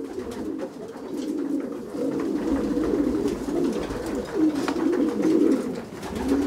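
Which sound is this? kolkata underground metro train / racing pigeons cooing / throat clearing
racing pigeons cooing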